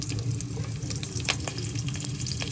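Green chillies and masala frying in hot oil for chicken fried rice, a steady close sizzle with occasional stirring clinks and no talk.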